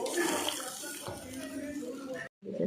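Water poured into a pointed gourd and potato curry, a short close splashing pour lasting about two seconds before a brief gap.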